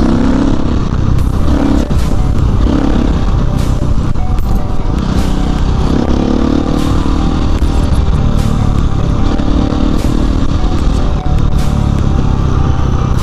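Motorcycle engine running with its revs raised, a loud, continuous close-up drone with clattery texture and repeated short bursts of wind and road noise.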